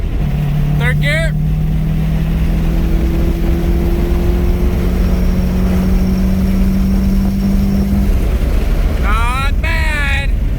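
An engine drones steadily in third gear with a rising tone and heavy wind or road rumble, voices briefly cutting in at the start and end.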